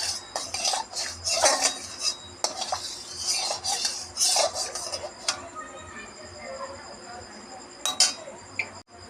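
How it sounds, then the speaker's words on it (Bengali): Pumpkin leaf fritters in a gram flour batter go one by one into hot oil in a wok, with clinks and scrapes of a utensil and soft sizzling throughout, under occasional quiet talk. "তেল গরম হয়ে গেছে স্টিমটা কমিয়ে নিয়ে তারপর একটা করে দিয়ে দেবো"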